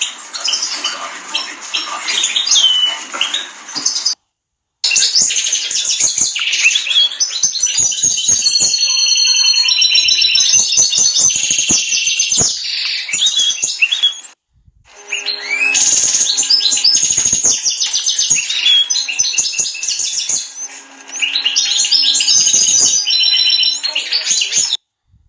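Three rescued baby birds chirp and squeal insistently and loudly up close, a dense stream of high begging calls with two brief breaks, and a person seems to speak now and then among them.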